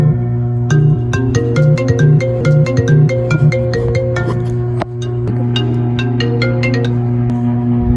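A phone ringtone from an unknown caller plays loud and close, a repeating melodic chime pattern that pauses briefly midway and then resumes.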